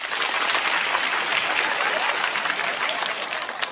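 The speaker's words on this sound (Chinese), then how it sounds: "还在上大学的朋友一起鼓鼓掌，好不好？" A stand-up comedy audience claps together, a loud, dense burst of applause that holds steady and then begins to thin slightly toward the end.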